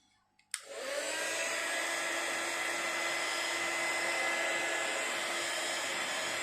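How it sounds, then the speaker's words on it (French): A heat gun blasts on to heat embossing powder on a handmade card, a steady loud whooshing hiss of blowing hot air that holds constant after switching on. "Et maintenant, j'ai plus qu'à venir chauffer ça avec mon heat gun."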